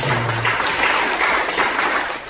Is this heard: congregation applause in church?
yes